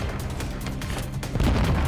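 A sudden, loud explosion in the video game Warzone 2 hits hard near the end, following a stretch of dense, rumbling battle noise with low booms.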